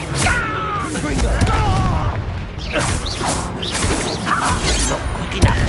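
The Confringo blasting spell bursts in explosive booms during combat in Hogwarts Legacy, loud and dense, amid game noise and a voice.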